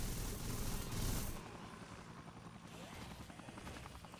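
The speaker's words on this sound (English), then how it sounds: "there's a helicopter out here shooting at me." A helicopter in the video game Dead Rising flies overhead with a loud, steady rotor drone that eases slightly after the first second, continuing under faint game ambience.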